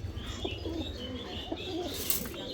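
A silver male pigeon coos softly in a few low rounded phrases, with faint chirps and a brief rustle nearby, close but quiet against a light background hum.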